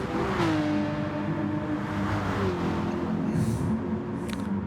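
Race car engines roar in Gran Turismo Sport during an online Nations Cup race, a dense, continuous whine of revving motors with shifting pitch as cars run close together, loud and unbroken with no talking.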